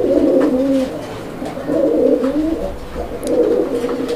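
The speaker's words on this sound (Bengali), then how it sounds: "বাট কবুতরটা অনেক চমৎকারলি ডাকে" A red-eyed pigeon coos up close in three rolling, throaty phrases separated by short pauses, loud and clear against a quiet background.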